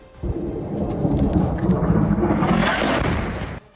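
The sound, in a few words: missile explosion hitting a building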